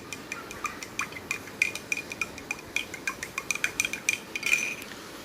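Milk mixture being stirred in a pot, a run of quick light metallic clinks and taps of a spoon against the pot, close and fairly quiet, with no talking.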